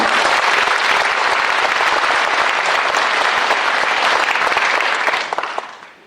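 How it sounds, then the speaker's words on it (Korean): Broad, dense applause fills a large audience hall at a county governor's inauguration ceremony in Okcheon, holding steady and loud for about five seconds before tapering off at the end. "여기 함께한 우리 국민 모두 서로에게 큰 박수를 한번 보내줬으면 좋겠습니다"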